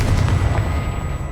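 Confringo fire-blast spell cast in the Hogwarts Legacy video game, a dense booming burst with rumbling low end that fills the moment, then a fading, rolling tail.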